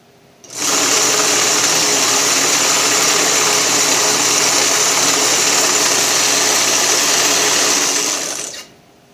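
A Snapper rear-engine riding mower, partway through a full rebuild, runs at a steady, loud, close, whirring mechanical drone that switches on abruptly and holds constant for about eight seconds before cutting off, with no voices.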